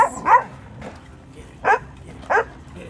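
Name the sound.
dog barking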